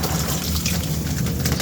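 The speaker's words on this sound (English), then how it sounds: "let's wash my hands" Hands being washed under a running tap, a steady close gush and splash of flowing water throughout.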